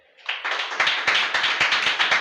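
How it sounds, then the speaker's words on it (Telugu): A church congregation at a Sunday service claps together in a quick, fairly even rhythm, loud and close, with no talk over it. "చప్పట్ల కొట్టు."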